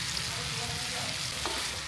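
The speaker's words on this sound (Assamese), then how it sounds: "এইখিনি পূৰা গলি যোৱালৈকে এতিয়া ভাজিম" Tomatoes frying in a pan with chili, salt and turmeric give off a steady, close sizzle that carries on without a break for the whole moment, with no talking.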